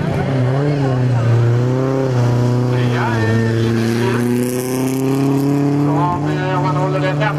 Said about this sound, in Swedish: Att han åker fruktansvärt fort bakom där nu, Anton Lund.